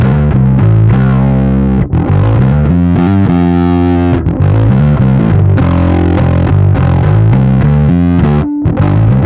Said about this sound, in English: Running the distortion into the fuzz gives you unhinged chaotic sustain